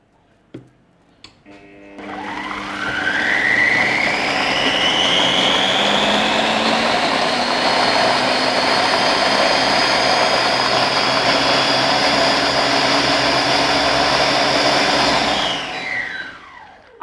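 A kitchen blender runs steadily at lower speed, mixing a homemade syrup. It spins up after a few clicks, holds a loud whirring drone for about thirteen seconds, then winds down, with no talk over it.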